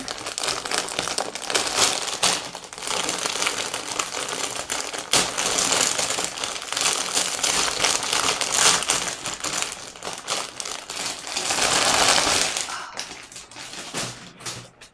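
Crinkly plastic packaging is torn and crumpled open around a Yokai Watch plush, a loud, continuous rustling close to the ear with a few taps and thumps and no voices.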